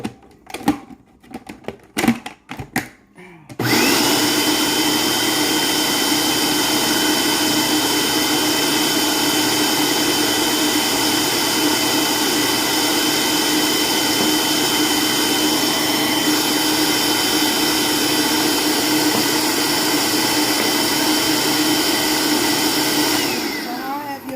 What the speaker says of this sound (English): I call them choppers, but it's a food processor.